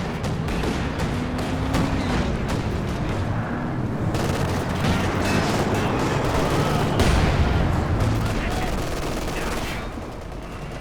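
Katyusha rocket artillery firing in the Company of Heroes 2 video game, a dense continuous barrage of booms and crackling blasts with rumbling impacts layered over battle noise, loud and sustained.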